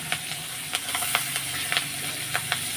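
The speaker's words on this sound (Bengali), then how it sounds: "এখন আমি দিয়ে দেবো সব চাল কুমড়োগুলো তো দিয়ে দিচ্ছি" Ash gourd pieces go into a hot pan where fish heads have been fried until red, raising a steady close sizzle and hiss with scattered crackling pops and faint stirring scrapes.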